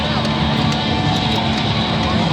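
C-17 Globemaster III transport aircraft passing at an air show: a loud, continuous broadband jet roar filling the whole stretch, with an announcer's amplified voice faintly under the noise.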